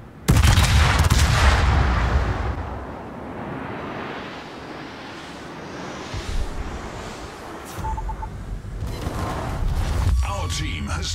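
Naval guns on the warship Nottingham fire high-explosive shells in World of Warships: a loud, booming salvo opens, then a long rumbling decay with more blasts and crackling rising near the end.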